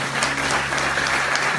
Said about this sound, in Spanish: Dale un aplauso a la palabra del Señor.